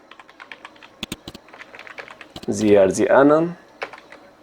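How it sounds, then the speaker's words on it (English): Computer keyboard typing, quick irregular clicks close by, paused briefly while a voice speaks over the middle stretch. "Similarly type other IDs too"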